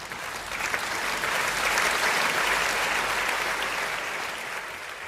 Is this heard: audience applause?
yes